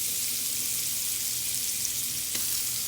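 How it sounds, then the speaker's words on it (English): Garlic and green onion sautéing in melted butter or margarine for cou cou, a steady close sizzle and crackle throughout with no voices. "you're just gonna leave this to saute for just about a minute"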